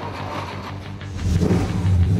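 A restored 1949 Chevrolet 3100 pickup truck pulls away, its engine idling low at first and then rising into a louder, close, rumbling rev as it drives off.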